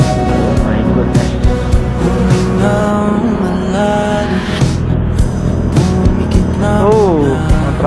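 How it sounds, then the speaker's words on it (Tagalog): Busy road traffic on a rainy afternoon ride to Cavite, with cars and engines droning and passing close by, tonal hums and occasional horn-like tones over a constant rumble. "Oh, traffic talaga."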